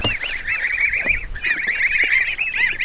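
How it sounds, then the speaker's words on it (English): A small duck gives a rapid, continuous run of loud, nasal honking quacks that stay close and fill the whole stretch, with no talking. "This little duck."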